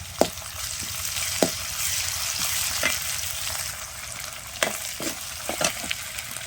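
Ginger garlic paste frying with browned onions in a pan, a close, steady sizzling hiss broken by several sharp stirring scrapes and knocks at uneven intervals, with no talking.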